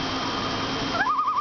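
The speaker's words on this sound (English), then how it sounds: "Right now we're hearing a bird here. It's a spotted sandpiper." A short, high, wavering spotted sandpiper call rises and trills near the end of the clip, heard over steady background noise with no speech.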